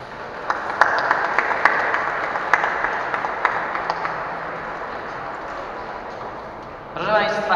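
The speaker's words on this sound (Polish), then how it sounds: "Applause for this great horse and incredible performance." Audience applause follows an Arabian horse show performance, clapping fading from a lively start to a softer patter, with a voice speaking briefly at the end.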